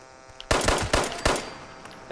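Gunfire in Fallout 76, a quick burst of four loud sharp shots in rapid succession after a quiet lead-in.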